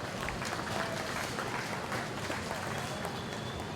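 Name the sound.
audience applause at a cattle show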